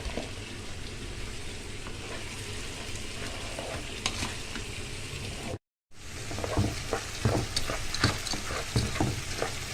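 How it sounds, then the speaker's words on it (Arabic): Pasta and liver being stirred through tomato juice in a hot pan, with a steady close sizzle and scraping stir throughout, broken by one brief silent gap midway. "لازم نقلب مع بعض عصير الطماطم كويس في المكرونه"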